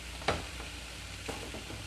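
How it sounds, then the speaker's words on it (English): Spoon stirring seasoned zucchini lasagna filling in a pan, soft frying sizzle with a couple of scraping knocks against the pan, close and fairly quiet, no voices. "now we have to stir it together. Make sure all that seasoning is coated everywhere"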